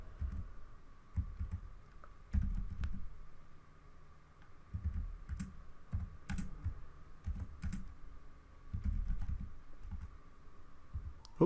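Typing on a computer keyboard while writing C# code, with bursts of soft, close key clicks in irregular rhythm over a quiet room hum and no talking.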